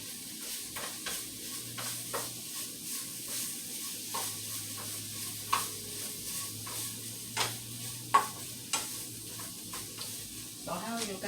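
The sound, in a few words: stirring chicken bacon ranch slider mixture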